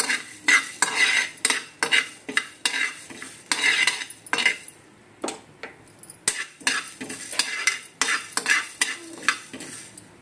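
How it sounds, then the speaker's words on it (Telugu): Mustard, cumin and coriander seeds dry roasting in a pan, heard as repeated rhythmic scraping and stirring strokes of a spoon against metal with light clinks, close and fairly loud, with no talking. "ఒక హాఫ్ స్పూన్ ఆవాలు, ఒక హాఫ్ స్పూన్ జీలకర్ర, ఒక స్పూన్ ధనియాలు, ఇలా అన్నీ ఒకసారి వేయించుకోండి."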